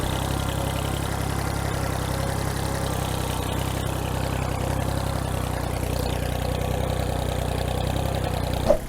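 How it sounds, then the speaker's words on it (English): A tractor engine idles and runs steadily at a farm field, a constant low rumble that stays even throughout without talk. "I'm going to hop on the tractor"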